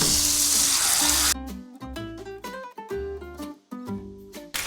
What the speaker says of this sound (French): Maintenant, je vais rajouter mon petit vin